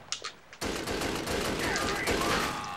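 Rapid gunfire in the video game Conduit 2 during an online multiplayer match, a dense sustained burst erupting after a few brief shots and continuing loud throughout, with voices talking over it.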